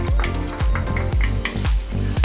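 Garlic and chili fry loudly in oil in a pan for a shacha beef stir-fry, with a strong, close sizzle. Rhythmic spatula strokes scrape the pan about every quarter second.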